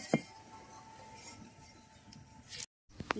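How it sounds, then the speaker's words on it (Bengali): A metal kadai set down on a lit stove in a home kitchen gives a sharp clink near the start, with faint scraping and a couple of brief clatters near the end, alone with no talking. "এবার কড়াটা বসিয়ে দেবো উনুনের মধ্যে"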